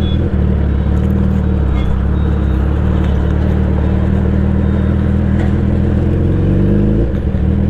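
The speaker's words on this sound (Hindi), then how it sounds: "सुपर बाइक की आवाज़ ही ऐसी होती है यार" A Suzuki Hayabusa superbike engine runs loud and close in a gym setting, holding a steady deep throb with a slight rise in pitch near the end and no talk.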